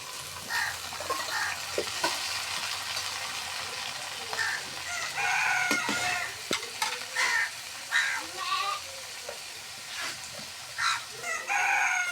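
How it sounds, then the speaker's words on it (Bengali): Bitter gourd fries in hot oil in a pan in a village kitchen, giving a steady close sizzle, while a rooster crows and chickens cluck repeatedly nearby. "তেলানিটা লাল লাল করে ভাজা হয়ে গেছে এখন করলা দিয়ে দিলাম"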